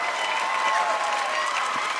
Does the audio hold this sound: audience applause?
yes